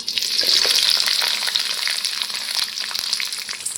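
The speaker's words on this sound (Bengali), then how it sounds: "এখন আমি কেটে রাখা পেঁয়াজ লঙ্কা আর রসুন দিয়ে" Chopped onion, chili and garlic sizzle in hot oil in a wok, a close, continuous crackling fry with occasional stirring scrapes and no voices.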